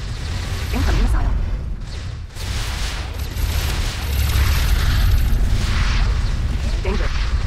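Missile impacts and explosions in the space game X4 Foundations during an attack on a Xenon wharf, a steady roar of booming blasts and rumbling mechanical noise with swelling bursts throughout.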